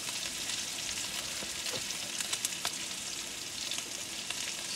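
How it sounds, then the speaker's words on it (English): Rough-cut mushrooms fry in oil in a pan at a rooftop tent campsite beside a 4x4 truck, giving a steady, dense sizzle with a few louder crackles and pops near the middle. "I'm just going to chuck in some rough cut mushrooms."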